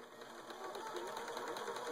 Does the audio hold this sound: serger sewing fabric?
yes